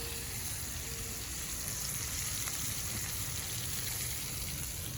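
Shrimp sizzling in hot oil with lime and spices, a steady close frying hiss that runs unbroken and fairly loud, with no voices over it.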